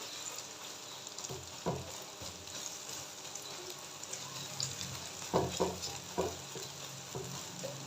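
Egg frying in oil in a pan for vegetable fried rice, a soft steady sizzle with occasional scrapes and clinks of a spatula as it is flipped and broken into pieces, close and moderately quiet, no talking.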